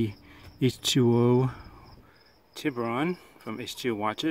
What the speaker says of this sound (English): forgive me if you hear crickets in the background.